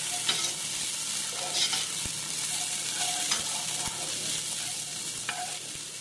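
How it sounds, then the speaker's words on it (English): Minced garlic frying in a pan for vegan chili, a steady close sizzle under repeated rhythmic scrapes and taps of a spoon stirring against the pan, no talking. "we want to stir for 2 minutes and keep stirring because garlic will burn quickly"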